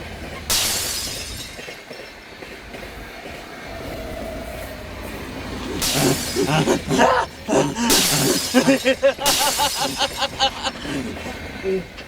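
Stones strike a train amid shouting voices, with a clatter near the start and a run of loud, rapid crashing and shattering-glass impacts in the second half of the scene.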